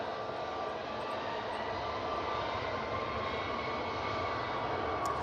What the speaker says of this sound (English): Ryanair 737 MAX now on the roll.